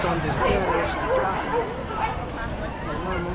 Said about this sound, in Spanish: tiene un montón de perros acá